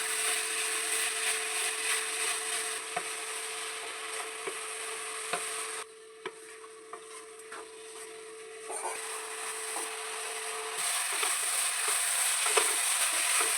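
Grated coconut cooks in melted jaggery with cardamom and bay leaf, giving a continuous soft sizzle broken by scraping, rubbing strokes of a spoon stirring the thick mixture in the pan.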